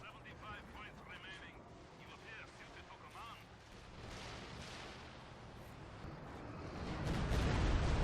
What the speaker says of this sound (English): The barrage.